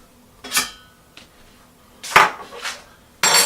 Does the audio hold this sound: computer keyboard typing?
no